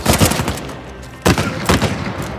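Loud gunfire from a weapon in Uncharted 4, heavy bursts of rapid shots in two clusters separated by a brief lull, close and booming.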